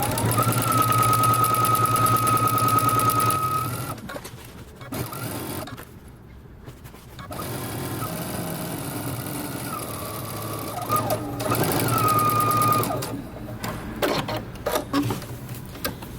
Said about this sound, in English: now we're going to stitch using 5/8 of an inch seam allowance